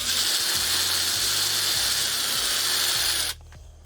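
A drill driving screws into wood while building a DIY virtual pinball cabinet, with a loud close whirring run and slight pitch dips as the screw bites, stopping abruptly near the end.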